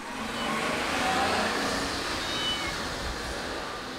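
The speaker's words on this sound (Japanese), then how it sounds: "子猫の鳴き声がかすかに聞こえてきます。" Faint meows from a kitten, one of a mother cat and kittens living in an empty house, heard distantly through steady broadband background noise with no talk.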